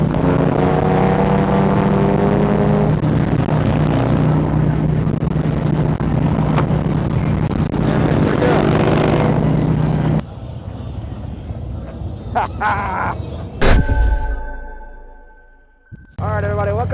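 A BMW motorcycle engine roars loud and close during a group ride with Harley-Davidsons, with rising and falling rev tones under wind and talk, then cuts to quieter wind noise and a few sharp knocks.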